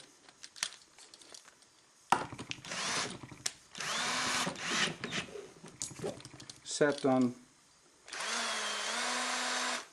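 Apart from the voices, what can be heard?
cordless drill running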